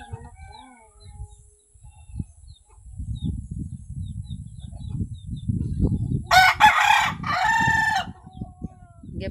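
Chickens cluck softly nearby, then a rooster crows loudly twice in quick succession near the end.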